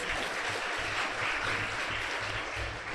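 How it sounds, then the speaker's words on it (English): Audience at a college foundation day ceremony claps steadily in a sustained, even round of applause with no voices over it. "Everyone, please give them a big hand of applause."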